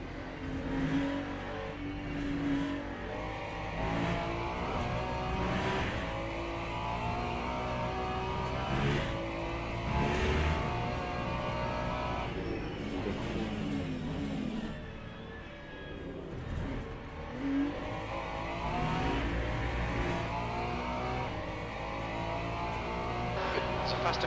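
Race cars in Le Mans Ultimate played in VR, engines droning and revving continuously with rising and falling pitch as gears change, close and steady, while a voice speaks over them at times.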